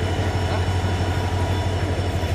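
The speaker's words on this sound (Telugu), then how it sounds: "ముందు నుంచి మమ్మల్ని సేఫ్గా తీసుకొచ్చిన ట్రైన్ ఇదే." A passenger train bound for Goa rumbles past with a loud, continuous low drone and a faint rhythmic rattle of wagons, heard close up with no clear speech.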